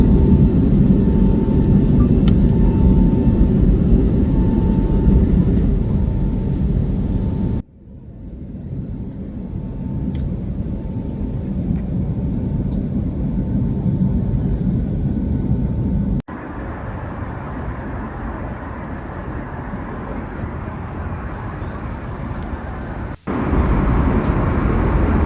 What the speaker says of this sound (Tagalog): Talagang yumayanig ang eroplano.